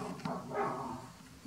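A dog barks close by, a couple of quick low barks that fade into a brief faint whine over background noise.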